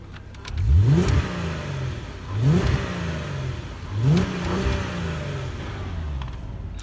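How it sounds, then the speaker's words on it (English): Parked car with paddle shifters revved three times in succession, each rev rising sharply and falling back to idle; close, loud engine with no talking. "we're gonna give you a few revs right now."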